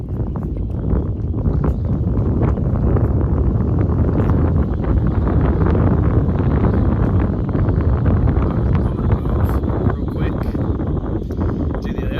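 Strong wind on a lake during fall fishing buffets the microphone with a loud, continuous low rumble that runs through the whole stretch and masks other sounds.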